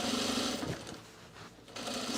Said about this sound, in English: While I'm at the serger, I'm going to serge the center front fly.